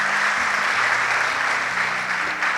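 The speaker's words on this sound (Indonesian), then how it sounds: "Tepuk tangan buat Tuhan Yesus dong." Loud, close church congregation applause, a continuous wash of clapping hands with no talking, holding steady throughout and tapering slightly at the end.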